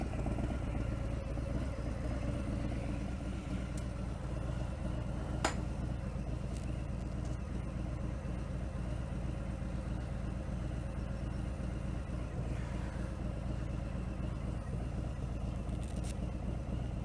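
A Harley-Davidson Fat Bob 114 motorcycle engine runs steadily and close throughout, a continuous low rumble with slight clatter and no clear revving peaks, no voices.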